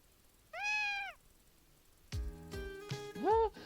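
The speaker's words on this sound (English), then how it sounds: "A fluffy white kitten meowed quietly in Leo's arms." A fluffy white kitten in the video game Piofiore: Fated Memories gives two soft, rising-and-falling meows a couple of seconds apart, with a Japanese voice speaking between them.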